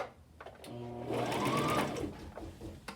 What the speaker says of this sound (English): Now we'll stitch back and forth a couple of times.